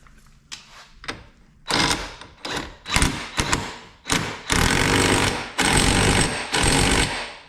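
An impact wrench tightens the center nut on a Kia Rio front wheel hub during a wheel bearing replacement: short loud hammering bursts that grow into longer sustained rattling runs, close and harsh, with no talking.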